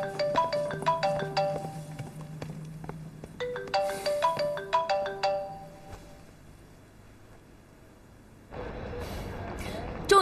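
Incoming-call ringtone on a phone plays a repeating bright melodic chime in two rounds, then stops, followed by a low steady room hiss.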